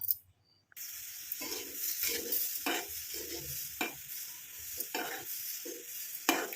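Amla powder mixture cooks in an iron kadai, with a soft hissing sizzle broken by a series of scraping stirs, close and moderate after a brief silent start.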